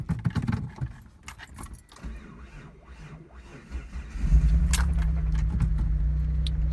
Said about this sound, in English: It does start up. I'll start it for you right now.